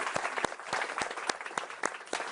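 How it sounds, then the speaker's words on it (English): Audience applause at an AI summit in Paris, moderate clapping from a modest crowd with distinct individual claps popping out of the steady patter, fairly close and uninterrupted by talk. "Let's give them a round of applause."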